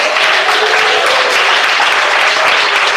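A church congregation claps hands together in loud, continuous unison applause, a dense wash of clapping that stays steady and close from start to finish with no talk.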